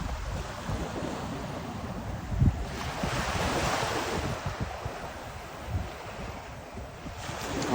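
Small surf breaking at Kaanapali Beach in Hawaii, a steady wash of waves rolling in under gusty wind buffeting the microphone, with a brief thump near the start and no talking.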